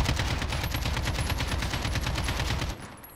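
Sustained automatic rifle fire from an AK in a video game, a dense rapid stream of shots held for nearly three seconds before cutting off abruptly into quiet.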